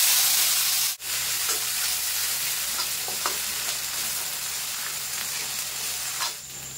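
Ginger-garlic paste, heavier on garlic, hits hot oil already tinted with turmeric for a Bengali fish curry, giving a steady close sizzle and bubbling with light stirring scrapes throughout and a brief dip near the start.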